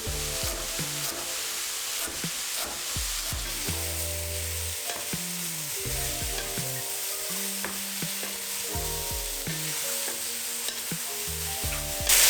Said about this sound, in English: While the mushrooms are sizzling in the background